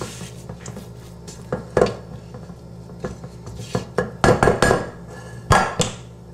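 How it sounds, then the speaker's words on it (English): Chilled chocolate chip cookie batter gets a quick stir in a bowl, with close, irregular clinks, knocks and scrapes of the utensil against the bowl and a few sharper bursts near the end. "just give the batter a quick stir"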